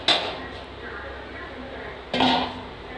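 Two sharp clattering knocks, one at the start and another about two seconds later, as a metal lid is set down on a pot of chicken gravy, with a kitchen hum beneath.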